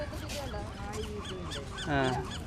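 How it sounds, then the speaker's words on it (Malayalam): A seagull gives several short, nasal calls at moderate distance at La Jolla Cove, San Diego, California, with a louder cry near the end over low background noise. "സീഗള്"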